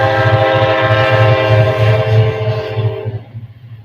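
A Kansas City Southern freight train passes eastbound, sounding a loud sustained horn over a steady low rumble from the rails. The horn cuts off near the end, leaving the rumble fading away.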